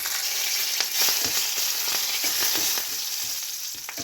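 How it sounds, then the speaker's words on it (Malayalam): Mustard seeds and curry leaves fry in hot oil for a Kerala beetroot pachadi, a loud, continuous sizzle with faint popping crackles throughout and no voices. "എണ്ണ ചൂടായി കഴിഞ്ഞ് കടുക് ഇട്ട് കൊടുത്തിട്ടുണ്ട് അതിലേക്ക് കരിവേപ്പില ഇട്ട് കൊടുക്കാം"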